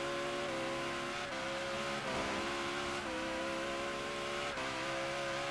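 Car engine held at full throttle in Forza Horizon 3, a loud steady high-revving drone with brief dips at gear shifts, continuous and alone.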